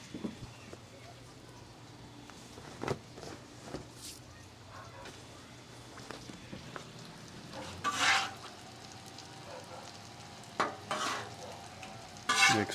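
Sausage, peppers and onions fry in a pan while a spoon stirs them, giving a steady close sizzle broken by several louder scraping, clattering stirs and a faint voice now and then.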